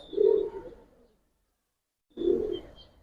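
Giribaz pigeons at a loft coo in two short, close bursts separated by a silent pause.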